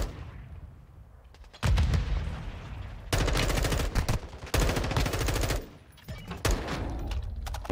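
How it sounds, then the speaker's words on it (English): Automatic and single gunfire in the video game Warzone 2.0, loud dense bursts of rapid shots in several long volleys separated by brief gaps, up close and dominating the mix. "He was getting shot at from someone ahead of him though."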